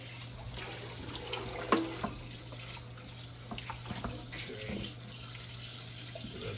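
Cold tap water runs steadily into a kitchen sink while a whole raw turkey is rinsed of herbs, with occasional splashes and handling sounds over the constant flow.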